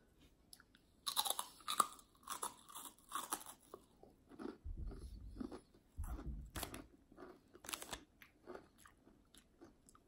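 Someone bites and chews a salty Japanese convenience-store rice cake snack, with crisp crunches in bursts and quieter chewing between them, close up and without talk.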